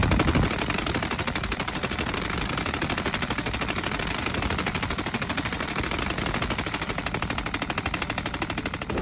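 An MG3 machine gun fires long, sustained automatic bursts at a fast, even rate, loud and close throughout, with no pauses.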